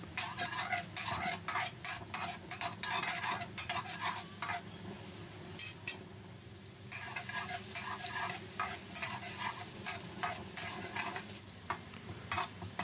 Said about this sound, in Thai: ขั้นตอนนี้เราก็จะมาเจียวกระเทียมให้เหลืองหอมกันก่อนเลยครับ